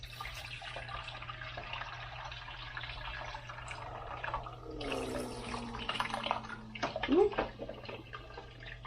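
Water splashing and gurgling into the tank of an Elechome countertop hydroponic system, a steady close pour that rises into a brief spurting fountain-like splash, with a short exclamation from a person.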